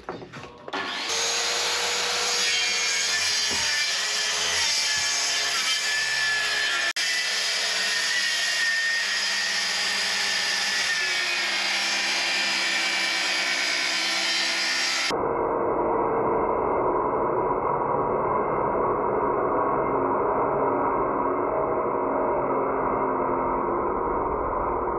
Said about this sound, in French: c'est parti pour la découpe du plan de travail